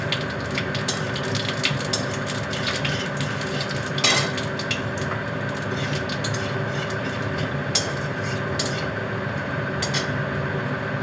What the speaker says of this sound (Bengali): এই তেলে দিয়ে দিলাম আমি জিরের ফোড়ন আর একটা শুকনো লঙ্কা ফোড়ন।